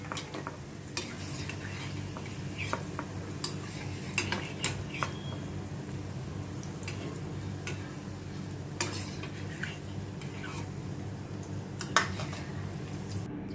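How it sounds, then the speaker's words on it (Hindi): Fried bitter gourds are lifted out of an oily wok and excess oil is drained, giving scattered sharp clinks and scrapes of a utensil against metal over a faint low background hiss. "इनको अभी मैं प्लेट में रिमूव करती हूँ और कढ़ाई में जो इतना तेल है, एक्स्ट्रा ऑयल मैं इसमें से कढ़ाई में से निकाल देती हूँ।"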